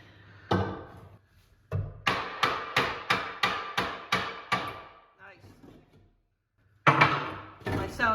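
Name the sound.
hammer used ripping out cocktail cabinet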